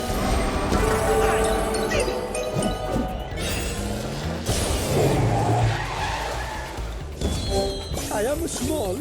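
A race car skids and squeals on a snowy track in the Cars 2: Fast as Lightning video game, with repeated tire screeches and engine noise mixed among upbeat game music and a voiced character talking over it.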